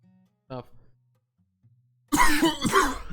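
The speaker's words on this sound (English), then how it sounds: "Coughing up a lung over here." A single short cough comes out sharply, then near silence, followed by a person speaking.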